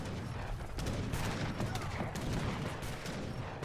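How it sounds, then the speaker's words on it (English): Mortar fire in a war strategy video game: a dense, continuous barrage of booming shots and explosions at steady loudness throughout. "More mortars coming in from Missy."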